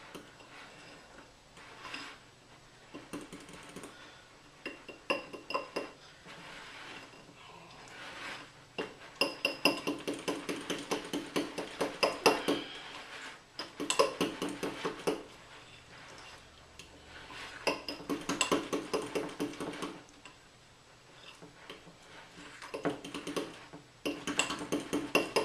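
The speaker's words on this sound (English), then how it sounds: "Mix all this up. Should start to form a pretty good batter." A utensil clinks and scrapes against a bowl while mixing quinoa pancake batter, in uneven bursts of rapid clattering strokes with brief pauses, close and fairly quiet.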